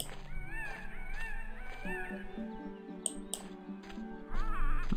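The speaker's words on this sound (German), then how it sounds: "Ich höre doch hier irgendwo einen Papagei." Parrot squawking in the video game The Curse of Monkey Island, repeated warbling, wavering squawks in bursts over background game music and ambience, fairly clear and near, with a louder burst of calls toward the end.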